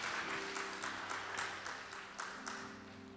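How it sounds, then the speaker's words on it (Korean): A congregation in a Korean church service gives a few seconds of steady, full-room applause, dense overlapping claps with a soft tonal backdrop underneath. "우리 나오신 분들 위해 박수를 한번."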